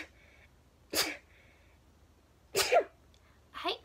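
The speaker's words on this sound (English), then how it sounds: "I'm gonna sneeze." Three sharp sneezes from a woman with a cold, loud and breathy against a quiet room, the second one longest, spaced about a second or more apart.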